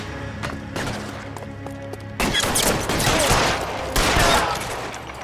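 Gunfire in the video game L.A. Noire: scattered shots over a music bed, then a dense, loud fusillade of rapid overlapping gunshots with heavy booms that continues to the end.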